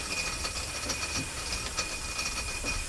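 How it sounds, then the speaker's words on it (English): A steam engine at a pioneer farm show idles with its steam valves open, giving a steady hiss with faint rhythmic chuffs and clicks, fairly quiet and without talk. "It's just idling now. Yeah, we just got the steam valves open."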